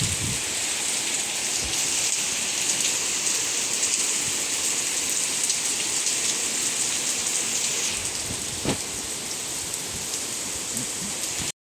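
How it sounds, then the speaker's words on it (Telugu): Heavy evening downpour, a dense continuous hiss of rain pouring onto surfaces, steady and loud from start to finish with no one speaking. "ఫుల్ వర్షం, ఇంత ఘోరంగా పడుతున్నా. పడట్లే అనుకున్నా కానీ ఇంత జోరు వర్షం పడింది"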